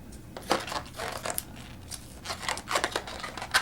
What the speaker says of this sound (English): cut the end and let the air out